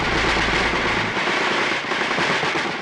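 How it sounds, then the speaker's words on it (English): Tank 90mm cannon and .50 caliber machine gun fire in a Vietnam War armored cavalry assault, a loud continuous barrage of rapid gunfire with booming low rumble early on, dense and unbroken. "The tanks opened fire with 90mm cannon and their 50 caliber machine gun."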